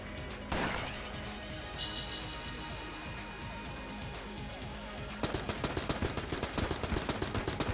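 Gunfire rattles through an Enter the Gungeon fight, beginning as a busy mix of impacts and crashes. It then turns into a loud, rapid train of repeated shots in the last few seconds.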